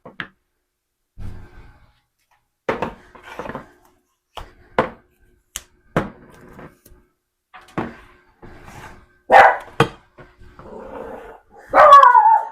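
A dog barks in sharp, separate bursts with quiet gaps between them. Some barks are louder and closer, and a few come as quick pairs.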